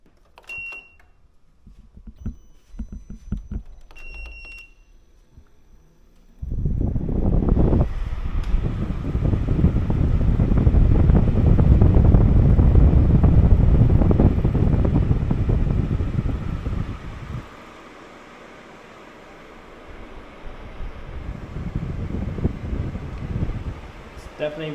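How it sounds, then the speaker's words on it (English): A Midea U-shaped window air conditioner runs while wind blows outside, a steady broadband rushing that swells loud for about ten seconds, drops, then rises again, with brief faint voices and small sounds near the start. "The only thing I can hear is the wind."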